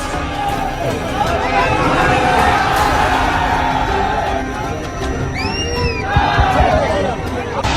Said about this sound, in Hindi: ये पैसे देकर बुलाई गई भीड़ नहीं है